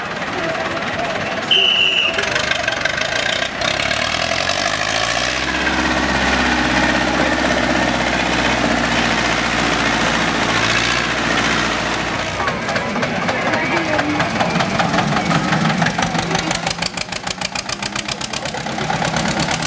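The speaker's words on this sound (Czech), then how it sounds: "další stroj na startu, startovní číslo 27, Spiněk, Lálošák, Valašská Senice, Zetor 4011" A Zetor 4011 tractor engine at the start line of a tractor hill race, with a loud, steady diesel idle and knocking throb and an announcer speaking over it.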